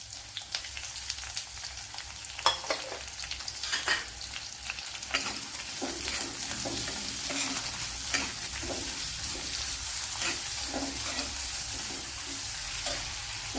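Medium onion frying in ghee in a pan for quail egg curry, sizzling softly at first then growing into a steady hiss, with scattered spatula scrapes and clinks as it is stirred.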